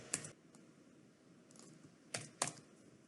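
Typing on a computer keyboard: a handful of soft, sharp key clicks at uneven intervals, with a couple of louder taps near the end, close by and quiet, with no talking.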